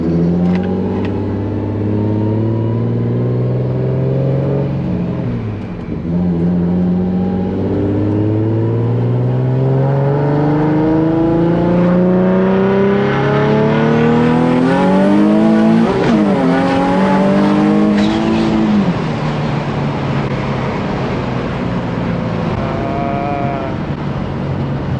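A turbocharged Z car on a test drive revs loudly and close, its engine pitch rising and falling through repeated surges and shifts, with a sharp high whine near the middle.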